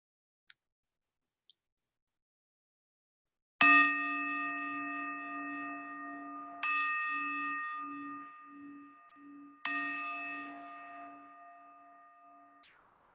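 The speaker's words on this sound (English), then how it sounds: "you'll hear the bells come in just a moment" Three bell strikes a few seconds apart, each ringing with a clear sustained tone that slowly fades, with a gentle pulsing shimmer beneath; no talking.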